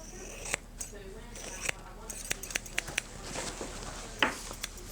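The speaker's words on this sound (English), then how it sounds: "I'm going to cut the burr off" Sharpened 44-20 barber shears snip repeatedly to cut off a burr, giving a string of light, crisp metallic clicks at an uneven pace, close up, with some talking in the background.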